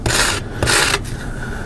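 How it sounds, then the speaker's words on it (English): Vigorous hand sanding of a craft drink coaster piece, with loud, close rasping strokes in quick bursts and a brief pause between them. "This stuff sands really easy."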